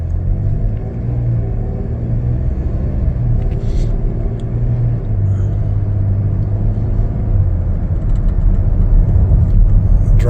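Steady low engine hum and road rumble from inside a 2021 Chevrolet Traverse LT six-cylinder SUV cruising along, loud and even throughout with faint background talk.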